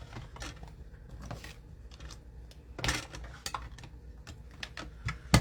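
Crank-driven die-cutting machine pushing a card sandwiched between a base plate and two acrylic plates, heard as a close, quiet run of clicks, ratchet ticks and small plastic knocks with a couple of sharper taps near the end.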